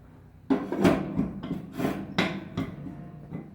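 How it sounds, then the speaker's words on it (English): Cast-iron hot plate being set back onto a Kitchen Queen 380 wood cookstove, heard as a series of close, sharp metallic clanks and scrapes spread over a few seconds. "Let's reinstall this hot plate."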